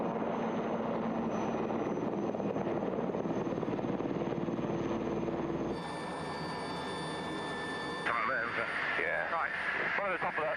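A rescue helicopter departing after a hoist over foggy mountains, its steady rotor and turbine roar filling the scene, shifting in tone partway as it pulls away, with someone narrating over it.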